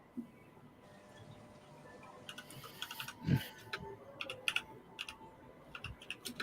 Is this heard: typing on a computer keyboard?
yes